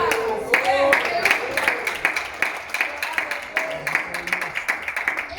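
A church congregation claps in steady rhythmic bursts throughout, the hand claps close and lively under ongoing voices.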